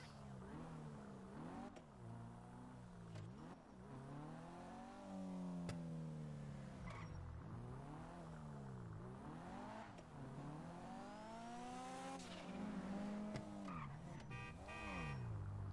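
Car in GTA 5 Online driving and revving, engine pitch rising and falling repeatedly through gear changes, close and continuous for the whole stretch.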